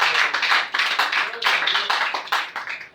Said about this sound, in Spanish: Si le dan un aplauso de ese lado